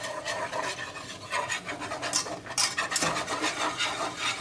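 A whisk scrapes and rasps around a pan as flour is worked into gravy for Salisbury steak, a busy close rhythmic scratching with brief metallic clinks and no voices.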